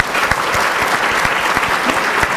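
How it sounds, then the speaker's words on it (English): Steady, dense applause from a seated audience at a morning health system reform event, filling the whole stretch at an even loudness with no talk over it. "So a big round of applause to all our supporters."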